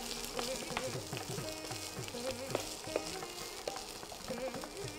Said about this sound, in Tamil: இப்போ வெங்காயத்தையும் வதக்கணும்.